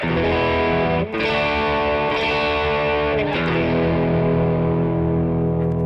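Thick, compressed distorted guitar chords through a Rat-style distortion pedal on its compressed clipping setting ring out loudly, struck a few times and left to sustain and slowly decay.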